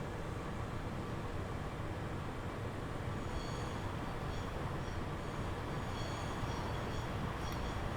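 A Voyager train pulls into a station in the railway simulation game Transport Fever 2, a faint, steady rumble of rolling stock with a few light metallic tones near the end.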